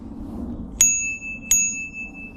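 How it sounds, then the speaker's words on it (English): A small bell on a Windone S16 City Rider bicycle rings twice, two bright, clear dings about a second apart that ring out and fade, heard alone over a quiet background. "It's got the little bell."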